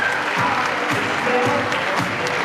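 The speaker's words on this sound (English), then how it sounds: "Round of applause, guys." Audience at a cosplay contest clapping, a steady dense round of applause throughout with a few faint voices underneath.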